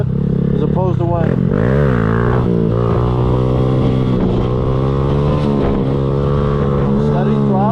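Engine under choppy, back-and-forth throttle, its pitch surging and dropping repeatedly in quick swells, loud and close, with someone talking over it.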